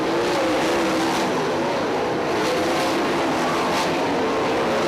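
410 sprint cars roar around Lawrenceburg Speedway in a Midwest All Star race, a loud continuous engine blare with rising and falling pitch as cars run the high side of the dirt oval.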